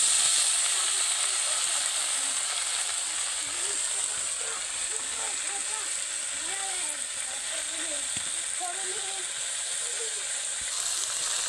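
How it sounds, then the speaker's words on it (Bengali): Spinach with a little salt boiling in a wok gives a steady, close hiss of steam that runs without a break, with faint bubbling underneath. "একটু সেদ্ধ করে নেব পালং শাকটা।"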